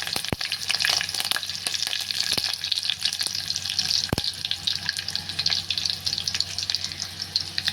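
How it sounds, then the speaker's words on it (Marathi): Curry leaves drop into hot oil with garlic and a bay leaf, giving a loud, steady crackling sizzle with a few sharp pops and light stirring, and no talking. "कढीपत्ता टाकायचा."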